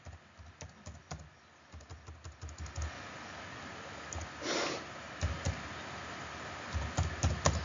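Quick clicking keystrokes on a computer keyboard while someone fills in a mobile number on a form, coming in irregular bursts up close with a short pause and a soft rustle midway.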